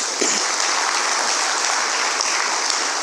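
Sustained applause from a large audience at a non-oil export summit, greeting recognized bank executives. The clapping is dense, steady and loud, with no talk over it.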